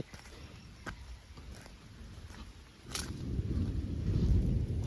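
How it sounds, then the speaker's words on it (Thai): Loud thunder during a storm with rain: a deep rolling rumble swells up halfway through and grows heavier, over a background of rain patter and a few sharp taps. "โห ฟ้าร้องดังมาก"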